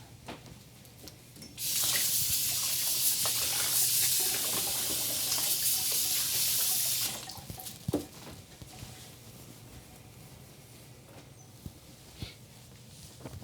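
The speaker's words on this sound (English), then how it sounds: "Let me rinse my hands off." Tap water runs over hands being rinsed at a sink, a bright, steady splashing gush for about five seconds. It stops, leaving faint kitchen clatter and a few soft knocks.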